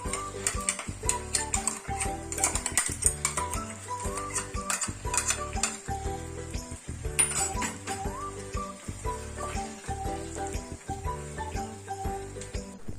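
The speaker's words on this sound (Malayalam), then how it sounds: "അതുവരെ ഇളക്കിക്കൊണ്ടിരിക്കണം." Brinjal sautéing in a pan while being stirred, with rhythmic clinks and scrapes of a utensil against the pan over a light sizzle, repeated steadily throughout.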